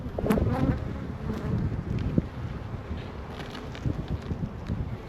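Honey bees buzz around an open hive and close past the microphone in a steady, dense drone, with light wind noise behind and no talk.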